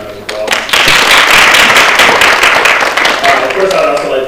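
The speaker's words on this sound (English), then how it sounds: "Let's give them another round of applause." Audience applause at a campus equity and engagement gathering, a loud, steady wash of clapping that swells within the first second and holds to the end.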